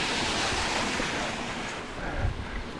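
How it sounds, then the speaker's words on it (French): Rushing water from a waterfall along a mountain bike trail on Mount Nebo roars as a broad, continuous wash, loud and close with wind noise on the microphone. "Inattendu. Cascade."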